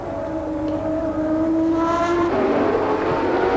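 Nakajima's Formula One car in the rain at the 1989 Australian Grand Prix, a high engine whine climbing in pitch as it accelerates and draws closer, loud and sustained.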